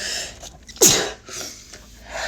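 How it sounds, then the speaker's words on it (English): A single sharp sneeze bursts out close to the mic, preceded by a quick inhale, with quiet background noise around it while playing Fortnite. "I'm about to sneeze."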